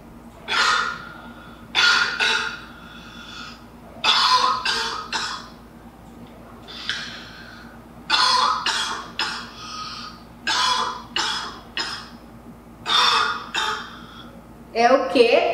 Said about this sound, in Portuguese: O som que a gente escutou foi tosse